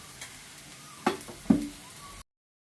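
Ingredients frying in a pan for a drumstick milk curry, a soft steady sizzle broken by two sharp scraping stirs, then abruptly cut off.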